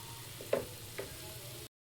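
Prawns fry in a pan for prawn pulao, a steady close sizzle with a couple of soft stirring scrapes, quiet and with no talk, stopping short just before the end.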